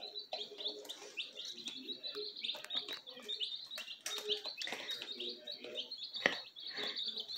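Young pullet chicks in a brooder keep up a continuous, fairly faint stream of high peeping chirps, with overlapping calls and no pauses.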